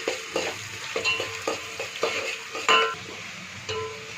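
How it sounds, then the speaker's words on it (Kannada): Onions fry in a hot pan for chicken masala, a steady close sizzle broken by regular scraping strokes of a spatula stirring them every half second or so. "ಈಗ ಈರುಳ್ಳಿ ಹಾಕೋಣನ್ರಿ. ಇದು ಕೆಂಪಗೆ ಆಗತ್ತಕ ಸ್ವಲ್ಪ ಹುರ್ಕೋಬೇಕ್ರಿ."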